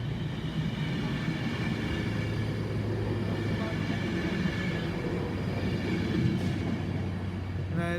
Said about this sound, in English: off going now is the 331 off to Liverpool High Street from Blackpool North